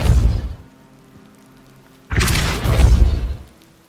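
Depulso, a force-push spell in the video game Hogwarts Legacy, lands with a deep boom and rushing whoosh after a short lull that follows an earlier thud, then fades out.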